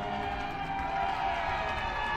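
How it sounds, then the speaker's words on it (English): A soccer stadium crowd in Fayetteville at an NCAA women's match between Texas A&M and Arkansas roars steadily, a dense, continuous wash of cheering voices held at an even level throughout. "The crowd was roaring because B. Franklin showed off a little technical flair."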